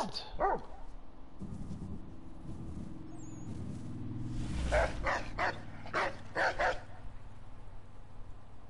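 Dogs in the video game Assassin's Creed III: The Tyranny of King Washington, a few sharp barks and yips in quick succession over a low game rumble, moderately near.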